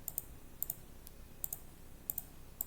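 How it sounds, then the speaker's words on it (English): A computer mouse clicks the submit button on an Excel entry form. Soft, quick clicks come close together in pairs, repeating at a steady pace over a faint, quiet background. "by clicking on the submit button, one dummy entry will be done for this for visual effect"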